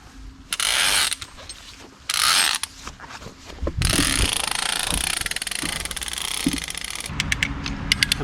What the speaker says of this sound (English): I've got my rope puller and I got a pulley.